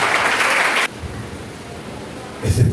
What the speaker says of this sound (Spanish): Aplaude si quiere.